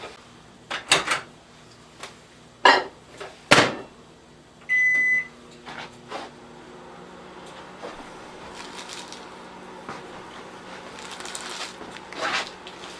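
A microwave oven is closed, its buttons tapped and a single beep sounds before it starts cooking a fudge mixture, running with a low steady hum after several sharp clunks.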